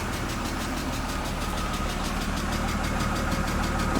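A BMW 328i E36 engine idles steadily at close range, with a faint, regular ticking running through the low rumble and no misfire.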